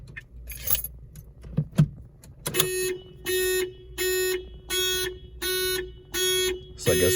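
Alarm on a SOLO electric car sounds in repeated pulsing electronic chirps with a steady tone, about six evenly spaced bursts after a few scattered clicks and jangles at the start.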